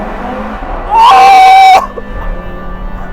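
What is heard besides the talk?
Audi RS3 five-cylinder turbocharged engine revving in a tunnel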